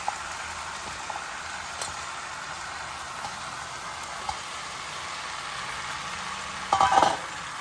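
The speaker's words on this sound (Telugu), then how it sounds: "వేసేసి ఒకసారి మొత్తం తిప్పేసుకొని కింద నుంచి మీదకి కింద ఆయిల్ మొత్తం పైకి వచ్చేటట్టుగా తిప్పుకొని" Ridge gourd and soaked moong dal fry in oil with a soft, low sizzle while being stirred. Faint scrapes and taps come through, followed by a brief louder burst of stirring near the end.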